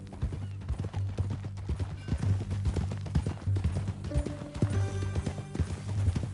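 Horse hooves clip-clop in an uneven rhythm at close range in a PS4 video game, with a brief whinny partway through.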